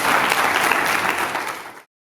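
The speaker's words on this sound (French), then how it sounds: "Applaudissez." Wedding guests break into loud, dense applause for close to two seconds, then it cuts off abruptly into silence.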